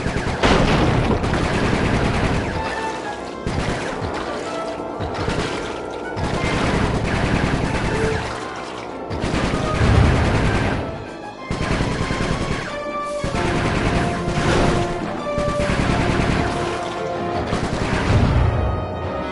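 Dense, sustained gunfire and booming bursts in the video game Sly Cooper 3, loud and continuous with rhythmic surges over about twenty seconds, without talk.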